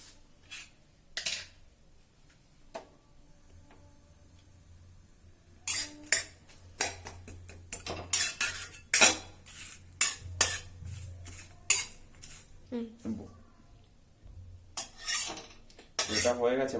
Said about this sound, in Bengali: কড়াইতে আমি এখন তেজপাতা, শুকনো লঙ্কা, এলাইচি দিয়ে এটা একটু ভেজে নেবো।